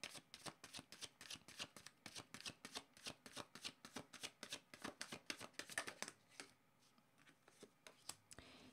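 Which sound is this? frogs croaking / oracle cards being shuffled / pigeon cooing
oracle cards being shuffled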